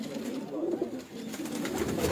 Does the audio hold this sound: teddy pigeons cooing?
yes